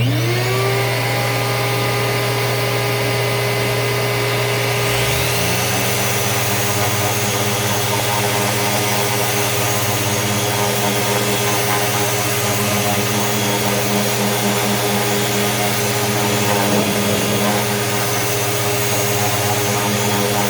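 A Triton geared eccentric orbital sander runs continuously with a steady high whine and buzzing hum, its tone shifting after a few seconds as it bites into the wood, loud and close with no talk.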